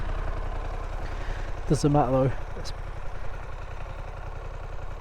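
A Harley-Davidson Pan America ST motorcycle on its stock exhaust idles with a steady, low, even rumble throughout, while someone talks briefly over it near the middle.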